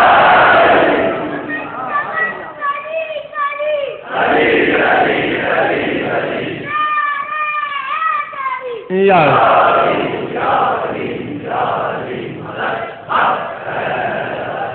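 Children lead a crowd chanting religious slogans at a Shia majlis for Imam Hussain, loud call-and-response voices rising in waves, with a near voice speaking between chants on a muffled, narrowband recording.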